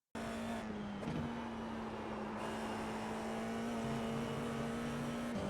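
An FIA F4 single-seater race car at speed around Oulton Park, its engine holding a loud, steady onboard drone with slight pitch shifts through a fast corner, continuous for the whole stretch with no talking.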